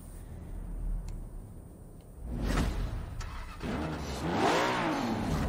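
A car engine in the Forza Horizon 4 racing game revs up and accelerates, rising pitch sweeping upward as speed builds, loud and steady over the full length.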